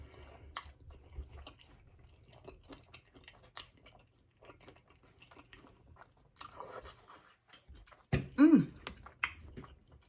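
Someone chews hot cheesy pizza topped with huge shrimp, with soft crunches and bites close to the mic in a fairly quiet room, ending in a louder burst of mouth sounds.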